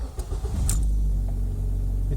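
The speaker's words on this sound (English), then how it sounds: "So if I now start the car" A Mazda 626 engine starts up and settles into a steady low idle rumble, close and fairly loud, with a brief click near the start and no talking.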